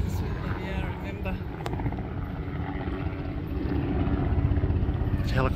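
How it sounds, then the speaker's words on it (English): A helicopter flies overhead near the grounds of the old Gladesville Mental Hospital, a continuous rumbling drone that grows slightly louder toward the end, with people talking briefly over it. "There's a helicopter there."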